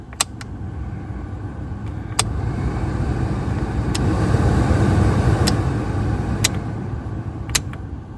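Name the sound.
car blower motor fan running on low, Scion xB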